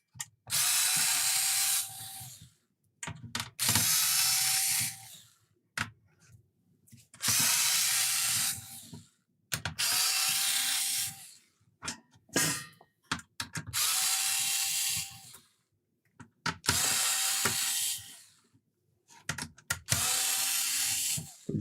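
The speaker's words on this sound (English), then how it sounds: "Good job we got an electric screwdriver. This would take a lot longer otherwise." An electric screwdriver drives screws into an Amiga 500 circuit board in a series of about eight short whirring bursts, each lasting a second or two, separated by quiet pauses, close and clear.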